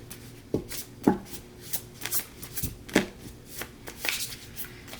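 Tarot cards are shuffled and pulled in a series of close, crisp riffling and slapping bursts, irregular and fairly quiet, with no talking.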